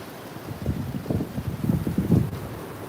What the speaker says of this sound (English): At the same time, it's bucketing down.